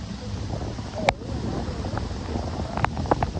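A car pushes through a flooded road during severe Konkan flooding, water spraying up around it in a steady rushing wash with a few sharp splashes near the end.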